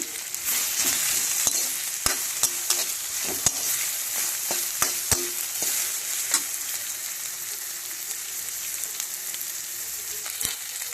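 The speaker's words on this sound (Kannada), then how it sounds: "ಈಗ ಸಣ್ಣಗೆ ಹೆಚ್ಕೊಂಡಂತಹ ಬೆಂಡೆಕಾಯಿನ ಇದಕ್ಕೆ ಹಾಕ್ತಾರೆ ನೋಡ್ರಿ. ನೀವು ಚಲೋತ್ನಾಗಿ ಹುರ್ಕೋಬೇಕ್ರಿ" Finely chopped okra sizzles and fries in hot oil in a pan, with a steady crackling hiss and a series of sharp clicks from the spoon stirring against the vessel, no voices.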